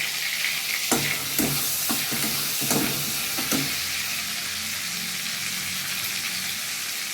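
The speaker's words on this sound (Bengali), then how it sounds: "তেল আমার একটু লাগবে, তাই সামান্য তেল দিয়ে নেব। সামান্য সাদা জিরে দিয়ে নেব।" White cumin seeds dropped into a little hot oil in a pan for a sponge gourd and prawn dish: a loud, close, continuous frying hiss, with a few spatula taps early on that then give way to a steady sizzle.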